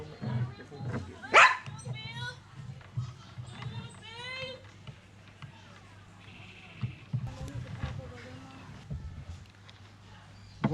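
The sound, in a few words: dog barking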